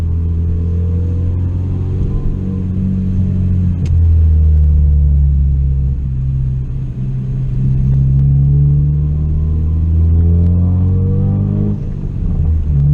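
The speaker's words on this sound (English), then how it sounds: "you guys can just listen to the interior of the car" Steady low engine drone inside a 2016 Ford Focus RS, idling below 3,000 RPM with gentle rises and falls in pitch, continuous and fairly loud with no talking.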